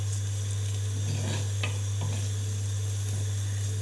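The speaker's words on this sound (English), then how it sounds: "So briefly warming through the caramelized onions, which we cooked earlier." Previously caramelized onions sizzle softly as they warm through in a pan, a steady close frying hiss with a few light stirring scrapes and no voices.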